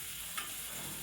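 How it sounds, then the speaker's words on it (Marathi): A tempering (tadka) for dal sizzles in a hot pan, a faint, steady hiss with one brief crackling spurt partway through. "काय बनवायला लागली एवढं फोडणी असं उडण्यासारखं"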